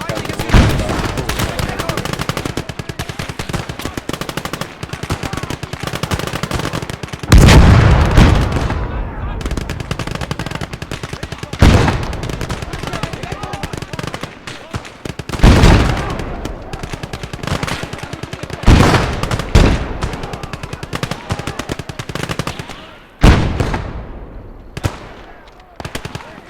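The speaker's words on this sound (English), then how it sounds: "Let me get this MG or this rifle out." Machine gun and rifle fire from the video game Gates of Hell: Ostfront, with sustained loud bursts of automatic fire, heavier booming blasts and scattered single shots, and voices shouting at times.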